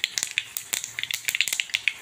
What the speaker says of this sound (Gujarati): મેથી પણ સરસ ફૂટી ગઈ છે